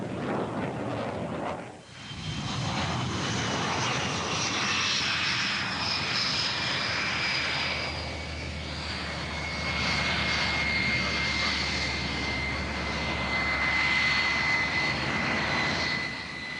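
Jet engine of the Soviet E-155 interceptor prototype during its first flight, heard as a loud, sustained roar with a rising whine that stays strong for the whole stretch.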